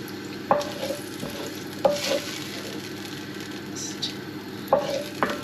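Bacon crisping in a pan as its fat renders out while beef bourguignon is made, giving a steady faint sizzle broken by a few sharper scrapes and clatters of stirring, with no voices.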